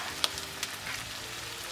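Eggs with chives stir-frying in a pan: a soft, quiet sizzle with a couple of brief clicks of a utensil near the start, no talking.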